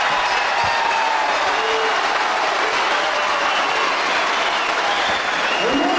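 A crowd at a professional wrestling bout between Kendo Nagasaki and Lee Bronson applauds a first fall, a loud, dense, unbroken roar of clapping and cheering that fills the whole stretch.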